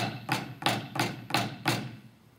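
Five crisp, evenly spaced flams struck on a marching snare drum, each a sharp, close hit that rings briefly before the next, with no talk.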